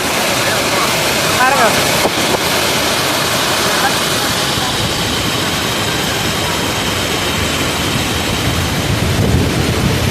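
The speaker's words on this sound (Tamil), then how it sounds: "ஆப்போசிட் சைடு வந்து பாருங்க எவ்வளோ தண்ணி போகுது பாரு" Kaveri river in heavy flow, its water rushing loudly as a steady broadband roar throughout, with people talking over it.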